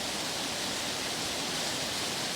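A roadside waterfall beside Highway 96 in Custer County, Colorado roars as a steady, dense broadband rush, loud and close, with no voices.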